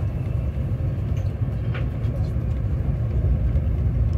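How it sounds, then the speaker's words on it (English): A high-speed train leaving Moscow rumbles steadily at speed, a loud continuous low roar with faint rattles heard from inside the carriage. "And now the train gets faster."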